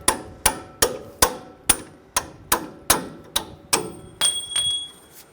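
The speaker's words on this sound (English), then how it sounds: "When you take this bolt out, just use a punch." A punch is hammered to drive out the strut bolt on a 2011-2018 Ram 1500 3.6L V6 front strut assembly: about eleven sharp, ringing metal strikes in a steady rhythm, close and loud, with a brief metallic ring at the end.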